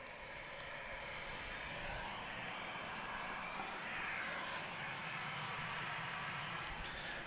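Aircraft engines at Lisbon Airport give a distant, steady roar and whine as planes wait to take off, holding at a constant level throughout.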